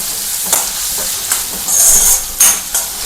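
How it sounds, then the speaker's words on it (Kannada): Onions fry in hot oil with a steady sizzling hiss, broken by several brief louder bursts of crackle and stirring. "ಎಣ್ಣೆಗೆ ಈರುಳ್ಳಿ ಹಾಕ್ಕೊಂಡಿದ್ದೀನಿ"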